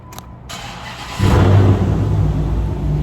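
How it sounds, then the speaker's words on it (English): A car engine cranks and catches, then settles into a loud, steady idling rumble up close, before a burnout. "Hold on, let me start it real quick."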